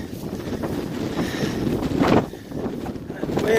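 Strong wind on a mountain trail of the Appalachian Trail buffets the microphone in a loud, continuous roar with rising gusts.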